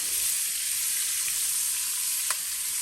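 Quartered onions fry at medium heat for a corned beef Guinness stew, giving a steady, close, bright sizzle that runs unbroken, with one faint stirring tick near the end and no talk.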